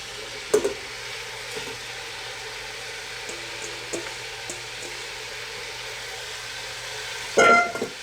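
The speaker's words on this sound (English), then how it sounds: "We don't want it to immediately sear, so we can just pretty much immediately put in the onions." A large batch of onions going into a hot pan for French onion soup, giving a steady low sizzle throughout with a few soft clicks and knocks, then a louder clatter near the end.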